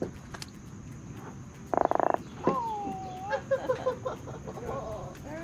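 A croaker fish just caught while fishing at St. Simons Island gives a series of short, close, raspy croaks, starting with a buzzy burst and then several grunts, with birds calling faintly in the background.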